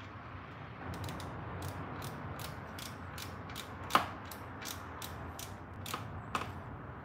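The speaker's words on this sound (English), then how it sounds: "Get my 16 millimeter socket. Put on my wrench. And tighten that thing down" A ratchet wrench with a 16 mm socket tightens the oil drain plug on a Harley-Davidson Road King, giving a run of about a dozen quick, evenly spaced ratcheting clicks with a couple of sharper metallic knocks, close and without talk.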